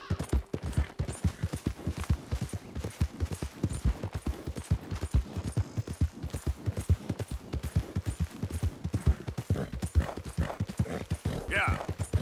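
Turkoman war horse in Red Dead Redemption 2, hooves clip-clopping in a steady, close, rapid rhythm throughout, with someone talking over it intermittently.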